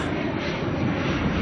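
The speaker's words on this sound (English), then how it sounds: "we've got an ATR coming in from Napier" An ATR turboprop arriving at Auckland Airport from Napier gives a loud, steady engine drone, continuous and close, with no talking over it.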